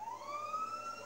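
A police car siren in the GTA 5 video game wails steadily and continuously, its loud rising tone sustained with no talking over it.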